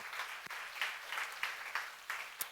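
Applause from a church seminar audience during a sermon, a fairly faint spread of clapping with a few sharper individual claps standing out over about two and a half seconds.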